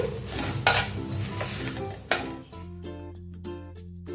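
Coarsely ground peanut powder being stir-roasted in a pan, a spoon scraping and stirring with a soft dry sizzle and a few clinks against the metal, close and steady, with a tonal hum underneath in the last part.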